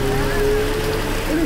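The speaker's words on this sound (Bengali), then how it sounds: "বলতে না বলতে বৃষ্টিটাও নেমে গেল" Rain falls steadily as a loud broad hiss near a train platform, with a faint tonal hum running underneath.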